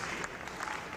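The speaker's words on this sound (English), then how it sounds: "And the crowd desperately trying to encourage" Spectators at a men's singles badminton final between Chen Jin and Simon Santoso at the 2007 Swiss Super Series clap in a steady, dense wash, a brief burst of crowd applause.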